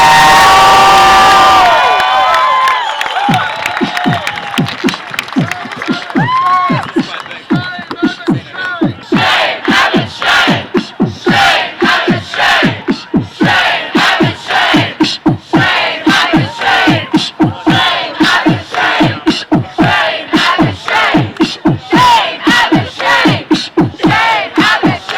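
A rally crowd erupts into loud sustained cheering, whooping and shouting, then breaks into rhythmic chanting and clapping that keeps a steady pulse.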